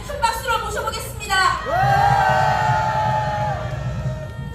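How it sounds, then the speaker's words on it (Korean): A rally crowd at a Korean patriotic party protest whoops and cheers as a speaker is welcomed to the stage, with shouted voices and a sustained, loud yell rising over an amplified announcer and crowd noise. "큰 박수로 모셔보겠습니다"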